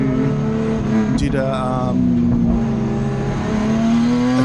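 Nissan 180SX race car in a 2021 Victorian Sports Sedan Championship race, its engine droning steadily at high revs and shifting pitch as it passes a slower car, with brief talk over the noise.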